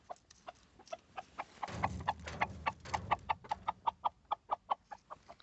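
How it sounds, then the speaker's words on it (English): Backyard chickens cluck in a steady, rhythmic run of short calls while being fed leaves, close and fairly loud, with a brief rustling flurry early on. "just feed the chickens"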